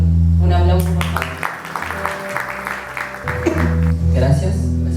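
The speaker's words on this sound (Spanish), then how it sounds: "Un aplauso, por favor." An audience in a patio applauds the introduction of Aurora and writer David Saade, a dense wash of clapping that swells through the middle of the stretch over a steady low hum, with voices mixed in.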